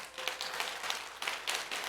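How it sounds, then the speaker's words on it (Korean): An audience claps in a series of short bursts of applause at a business seminar, moderately loud and close, with brief pauses between the waves of clapping. "아시고 박수 치시는 거예요?"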